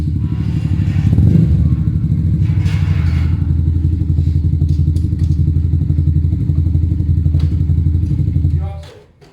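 A Zontes Mantis 125cc motorcycle engine idles loudly and steadily up close with a deep rumbling throb, then cuts off near the end.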